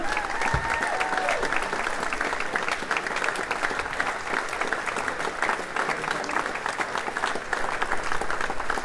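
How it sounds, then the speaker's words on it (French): Sustained crowd applause at the Golden Globe Race 2022 prize giving, a steady dense wash of clapping filling the whole stretch with faint voices and whistles mixed in. "Applaudissements, encore une fois"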